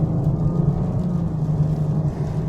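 A BMW 440i xDrive on the move, its engine giving a steady low rumble with road noise inside the cabin, fairly loud and even throughout.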